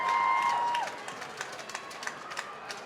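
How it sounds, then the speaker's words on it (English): Japanese crowd and supporters at a women's U20 lacrosse bronze medal game against Australia, with faint scattered cheering and clapping from a distance, a whistle tone at the start. "And the Japanese crowd and supporters like that decision."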